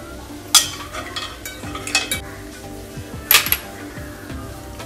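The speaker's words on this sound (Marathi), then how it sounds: "असं चाकूने आपल्याला ओपन करावं लागेल" Clams being pried open with a knife, giving sharp metallic scrapes and clicks at close range, with two louder snaps among quieter rattling handling noises.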